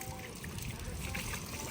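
Hot water runs steadily from a tap in a gurdwara washroom, a continuous close splashing trickle that fills the whole moment without pause.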